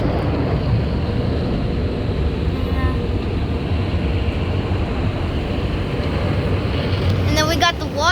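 Automatic car wash machine running through its cycle, a steady loud roar of spraying water and rumbling mechanics filling the whole stretch, with people talking over it.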